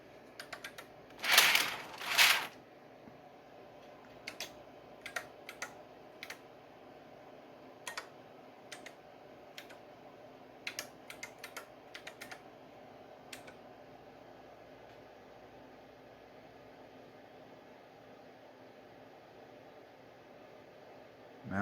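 Keys tapped on an AT&T PC 6300 keyboard, a couple of short dense bursts early on followed by scattered single clicks, faint and close against a steady machine hum.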